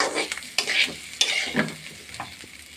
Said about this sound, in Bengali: চাউলটা ভাজতেছি সুন্দর করে ভাজে নিতে হবে